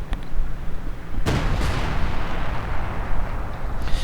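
Howitzer artillery in the strategy game Company of Heroes 2, a sharp booming shot that rolls into a rumbling decay, with a few smaller pops around it, heard without speech.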